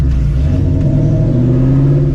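A deep, loud supercharged 2004 Mustang GT engine idles and rumbles close by through open exhaust dumps, a steady throaty drone with slight rising pitch as it revs gently.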